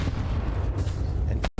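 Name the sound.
grenade explosion in the video game Counter-Strike 2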